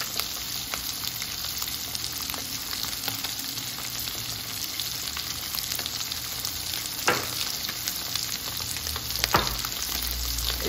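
Salmon fillet grilling in a pan sizzles steadily, a dense close frying hiss with a few faint clinks and stirring sounds, no talking.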